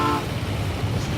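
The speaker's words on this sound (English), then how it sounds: "If you hear the train blowing its horn at you like that," In the My Summer Car video game, a train horn gives a very brief, close blast at the start, then a low engine rumble continues.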